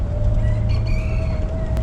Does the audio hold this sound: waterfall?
no